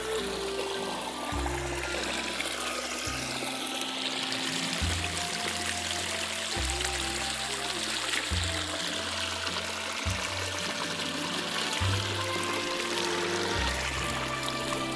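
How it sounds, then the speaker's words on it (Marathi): Water released into a channel on a Konkan summer farm field runs in a steady, moderately quiet pouring stream, with a low humming tone shifting underneath throughout. "ते बघा नाना, तर अकडनं असं पाणी सोडलेला"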